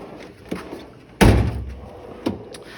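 A metal drawer in an ATV mechanic's tool box slides and shuts with a loud heavy clunk, framed by a couple of smaller knocks and rattles nearby.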